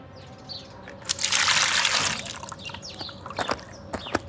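Water pours from the tap of a jar into a glass and overflows: a loud splashing rush lasting about a second, then scattered drips and trickles in a quiet kitchen.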